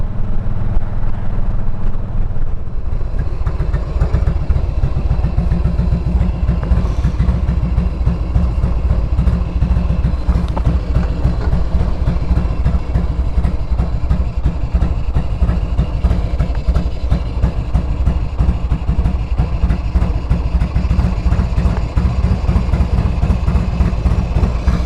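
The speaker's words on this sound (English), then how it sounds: "you do want it up to operating temperature before you set the idle." A Harley motorcycle engine idles steadily at operating temperature while its carburetor is adjusted, a loud, close, continuous rhythmic chugging that stays even throughout, with no one talking.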